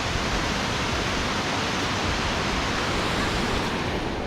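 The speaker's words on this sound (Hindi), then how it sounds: "देखिए नीचे बहता हुआ ये, और आवाज़ सुनिए इसकी, बिल्कुल डैम जैसी है" A steady, dense roar of water rushing down a mountainside near Nainital, loud and unbroken like water spilling over a dam, with no voices over it.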